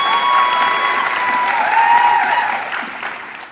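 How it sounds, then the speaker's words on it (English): An audience in a theater breaks into sustained applause, a dense wash of many hands clapping at steady volume before thinning and fading toward the end. "you're about to clap for him"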